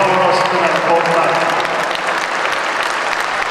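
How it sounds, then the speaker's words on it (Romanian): Steady, full applause from an audience at a goalkeeper award presentation for a semifinal youth football tournament in Reșița, loud and close, a continuous wash of clapping with some crowd murmur beneath it. "Felicitări și aplauze pentru acest valoros turneu portar."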